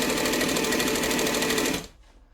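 A cylinder arm sewing machine stitches a business bag in a rapid, steady mechanical whir for almost two seconds, then stops abruptly, leaving near silence with no talking.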